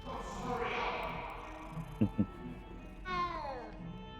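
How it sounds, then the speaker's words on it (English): A cat meows in the Hogwarts Legacy video game, rising and falling in one clear call near the end. It follows a pair of short soft thumps over steady game music and ambience. "Oh look, we get to pet the kitty cat."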